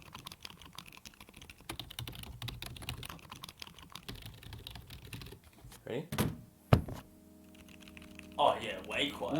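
Fast typing on a Plasti Dipped QK100 keyboard fitted with silent tactile switches, a dense run of soft, muted keystrokes followed by a few louder isolated thunks, with a brief spoken word in between.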